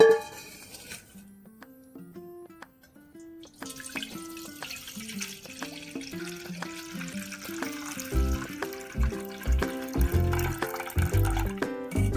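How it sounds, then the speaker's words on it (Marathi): Water pooled on soaked sorghum flour dough for papad is poured off into a vessel, trickling and splashing in uneven bursts that grow busier after a quiet start. "आता ह्याच्यावरचं हे आपण पाणी साचले ते काढून घेऊया"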